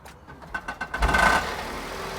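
A Smart car engine cranks in a few rapid pulses, fires up and settles into a rattly idle nearby, with the rattle continuing after the start.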